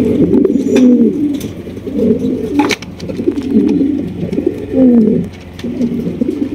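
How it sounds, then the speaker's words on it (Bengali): A pair of blue satinette pigeons coo in repeated low, rolling phrases, close and loud, with brief pauses between calls and no talking. "এখানে রয়েছে এক জোড়া ব্লু শার্টিন কবুতর"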